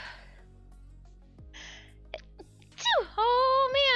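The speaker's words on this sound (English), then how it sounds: "those are big sneezes" Two loud indoor sneezes, the second a long strained vocal burst, preceded by a sharp gasp and breathy sniffing sounds in a quiet room.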